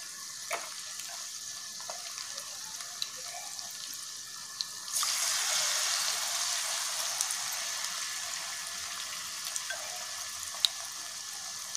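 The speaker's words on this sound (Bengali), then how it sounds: "পিস এগুলোকে আমরা গোলার মধ্যে চুবিয়ে এইভাবে তেলে ফ্রাই করে নিই।" Batter-coated stuffed paneer pieces fry in oil for a Bengali butter paneer masala, giving a soft steady sizzle with occasional pops that jumps to a louder hiss partway through.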